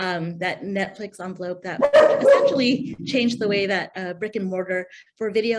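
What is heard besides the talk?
dog barking in the background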